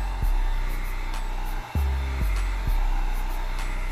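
A heat gun blows steadily and close by as it warms epoxy carrying alcohol inks on a tumbler with a black base coat. The constant airy roar dips briefly in the middle, and a few low thumps of handling sound under it.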